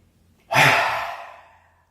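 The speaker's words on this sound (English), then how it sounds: "So inhale. Inhale. Inhale." A single deep, breathy inhale-exhale during a power flow yoga class, close and clear, swelling suddenly and trailing off slowly with no talk.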